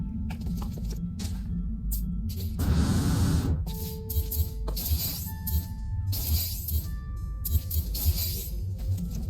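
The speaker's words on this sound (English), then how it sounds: "Remove a bunch of glass cubes." Glass cubes shatter and clink as they are removed from a base in No Man's Sky. Several separate crunching bursts come with short mechanical tones and blips between them, clear and fairly close.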